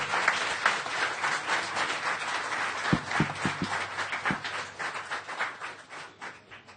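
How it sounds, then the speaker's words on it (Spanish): A church congregation at a Spanish-language worship service claps and applauds, a dense, fairly loud wash of clapping with a few sharp individual claps standing out, gradually thinning near the end. "Dale un aplauso al Rey."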